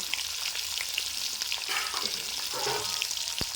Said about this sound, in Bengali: তেল গরম হয়ে গেছে এবারে আমি লো ফ্লেম করে রেখেছি এবারে এক এক করে ডিমগুলো আমি ছেড়ে দেবো